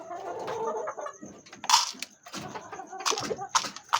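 Gamecock roosters and chickens cluck and call in short, fairly close bursts, with a few sharper squawks standing out against steady background noise.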